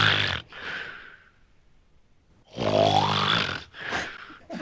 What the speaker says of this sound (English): I swear, I have never heard anybody snore like this.